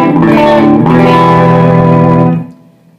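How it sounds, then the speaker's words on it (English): A dry, unaffected electric guitar strums a couple of chords that ring briefly and then cut off. "Dry guitar."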